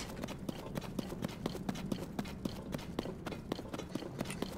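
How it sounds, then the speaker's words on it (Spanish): A phantom horse gallops in the video game Zelda: Tears of the Kingdom, its hoofbeats landing in a quick, steady clip-clop rhythm that continues close and clear for the whole stretch. "Viene ese con el, caballo fantasma."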